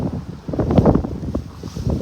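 Strong wind buffets the microphone in low, rumbling gusts that rise and fall throughout.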